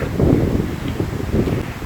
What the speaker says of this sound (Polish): Wiatr tu trochę wieje